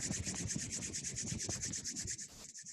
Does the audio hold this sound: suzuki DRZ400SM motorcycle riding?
no